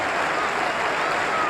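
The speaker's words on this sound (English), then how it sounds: "he's going off to the tremendous clap that he so richly deserves" Crowd applause at a cricket test match between England and New Zealand as a batsman walks off, a steady broad wash of clapping from a distant stadium crowd.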